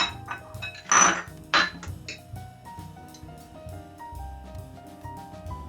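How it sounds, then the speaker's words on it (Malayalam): Oats are mixed into blended apple and banana in a bowl, with two bright clinks of a spoon against the bowl early on, then quiet, faint scraping over soft tonal background music. "ആപ്പിളും പഴവും എല്ലാം കൂടെ അരച്ച് വെച്ചതിനകത്ത് നമുക്ക് ഓട്സ് ഇട്ട് മിക്സ് ചെയ്യാം."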